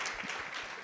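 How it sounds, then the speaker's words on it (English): An audience at a live panel presentation on volunteerism and community organizations applauds the panelists, a steady wash of clapping sustained through the whole brief moment. "let's give one final round of applause for our fantastic panelists today"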